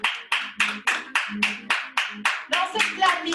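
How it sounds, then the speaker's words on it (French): Hands clapping in a steady rhythm during a yoga session, about a dozen sharp claps evenly spaced, close and fairly loud, with a voice faintly present between them. "amène du clapping"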